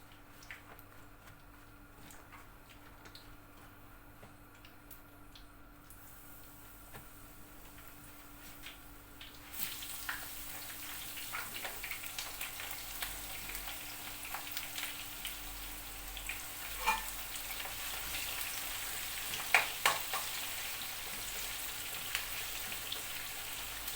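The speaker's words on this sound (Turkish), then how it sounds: "Bunlar da kızarsın." Mixed vegetables frying in hot oil, a soft crackle that grows noticeably louder and denser partway through, with scattered sharper pops rising above a steady hiss.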